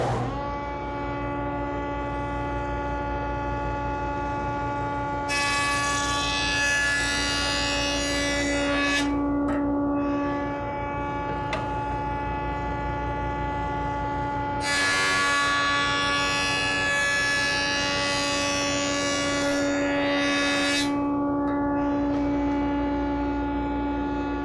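A woodworking jointer machine planes a board edge, running with the grain, with a steady motor hum throughout and two louder bursts of cutting noise as the board passes over the cutterhead.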